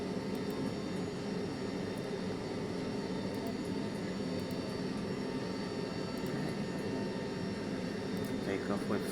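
A simulated Cessna engine drones steadily through a takeoff roll in a VR flight simulator, a constant mid-level hum with rushing noise and no clear change in pitch.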